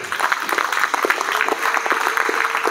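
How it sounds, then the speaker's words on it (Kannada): An audience claps loudly at a Ganeshotsav celebration held by the Kaveri group in R.T. Nagar. The applause is dense and sustained and continues steadily throughout, with no speech over it. "ಜೋರಾದ ಒಂದು ಚಪ್ಪಾಳೆ ತಟ್ಟಿ"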